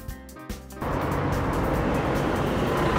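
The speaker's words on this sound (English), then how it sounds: "Mini bus." An animated mini bus starts up with a short tonal rattle, then settles into a steady, full engine and road rumble that holds to the end.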